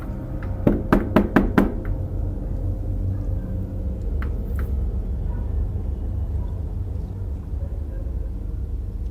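Five quick, loud knocks on a door in a row, then a low steady rumble of background noise with one faint tap later.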